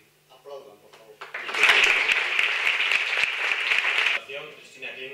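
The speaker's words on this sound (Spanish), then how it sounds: "Aplaudan, por favor." Audience applause at a Romani People's Day event bursts in after a short spoken request and holds steady as dense clapping for a few seconds, then drops off as speech resumes.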